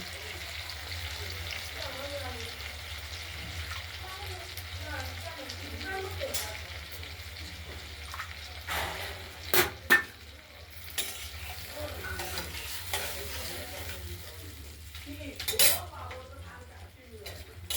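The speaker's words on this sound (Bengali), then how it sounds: "এবার কষানোর জন্য মশলাটা আমরা দিয়ে দিলাম কড়াইতে" Spice paste for a paneer and potato-tomato curry fries and sizzles in a kadai while a spatula stirs and scrapes the metal now and then. The cooking is steady and close, with a few louder clatters.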